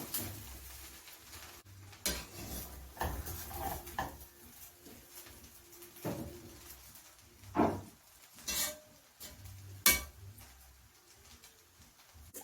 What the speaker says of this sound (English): Now go ahead and mix everything.